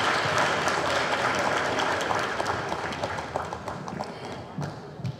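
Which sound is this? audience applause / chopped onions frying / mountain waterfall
audience applause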